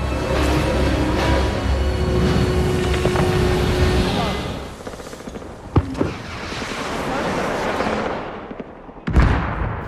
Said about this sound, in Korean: 그때 저 멀리서 폭발음이 들려오더니